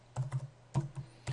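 Keystrokes on a computer keyboard while working in an Excel spreadsheet, about five distinct clacks in two small bursts, close and clear with nothing else around them.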